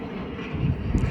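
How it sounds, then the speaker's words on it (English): An airplane flying overhead, a steady broad engine roar that swells slightly toward the end, moderately loud and continuous with no talk. "Then look at that plane though."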